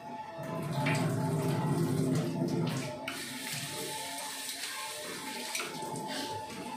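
Water splashes and sloshes in a basin as bitter gourd is washed by hand, loud at first and then settling into quieter swishing.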